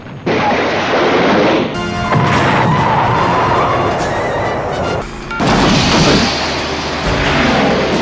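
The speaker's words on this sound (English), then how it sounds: "Fire the heat-seeking missiles!" Heat-seeking missiles firing and exploding, with sustained loud roaring blasts and rumbling surges that break off briefly and then return.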